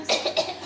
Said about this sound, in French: C'est la toux là qui m'a pris.